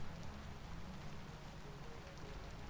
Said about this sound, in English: It rains. Of course it rains.